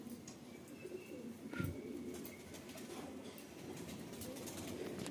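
Rampuri pigeons coo softly in a quiet loft, low murmuring calls repeating under faint background noise, with a brief rustle or flutter near the middle.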